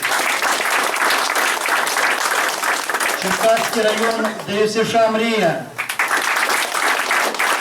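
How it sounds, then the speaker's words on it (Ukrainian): At a regional junior boxing championship, a crowd claps steadily for the competing teams while an announcer's amplified voice speaks over the applause partway through. "Аплодисменты командам."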